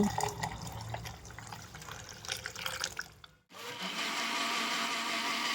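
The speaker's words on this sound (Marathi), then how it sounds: "दोन तीन ग्लास माठातलं थंडगार पाणी घालून परत मिक्सरवर फिरवून घ्या" A mixer blender whirs loudly with buttermilk and cold water churning inside, cuts out briefly, then restarts with a steady, even high-pitched roar.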